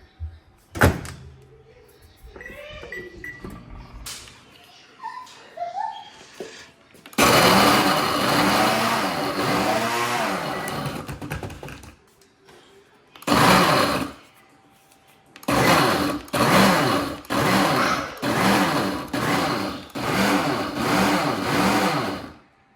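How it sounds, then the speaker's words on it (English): A kitchen blender grinds graham crackers into crumbs in a long loud whirring run, then in a series of short pulsed bursts with pauses between them, after some brief handling noises. "I'm gonna grind up about 2 cups of graham crackers"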